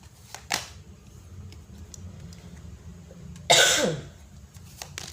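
A single loud, close cough bursts out after a quieter stretch, with a fainter throat sound earlier over low background hum.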